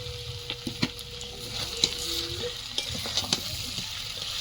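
Chicken and half-boiled potatoes frying in a biryani pot give a close, steady sizzle, while a utensil scrapes and knocks in irregular stirring strokes. A faint low hum runs underneath, and nobody speaks.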